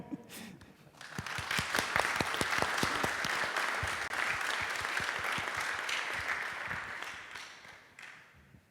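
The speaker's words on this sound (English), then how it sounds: "So give the gentlemen a round of applause" At a tech summit, an audience gives a round of applause. It starts with a few scattered claps, swells into sustained dense clapping, then thins out toward the end.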